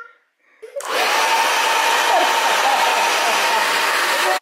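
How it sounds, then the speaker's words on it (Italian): A hair dryer switches on after a brief quiet moment and runs as a loud, steady broadband whoosh close by, holding constant until it cuts off at the end. "Vedi che funziona ancora il phon"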